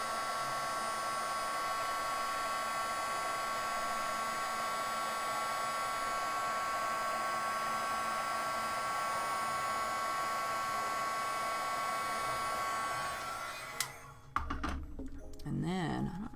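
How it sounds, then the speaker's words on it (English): A heat embossing tool runs for card-making with Copic markers, blowing a steady loud whirring hiss with a whine for about fourteen seconds before cutting off, followed by brief handling clatter. "now I'm going to take my heat tool and I'm going to let it heat up for a second"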